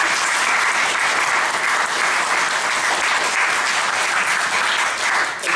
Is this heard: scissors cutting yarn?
no